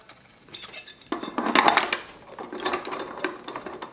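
Attachment screwed back onto a Philips Avance pasta maker with metal screws, a close run of plastic clicks, light rattles and scraping taps that rises and falls over a few seconds.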